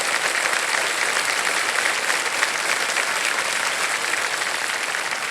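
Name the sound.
studio audience applause for a game show contestant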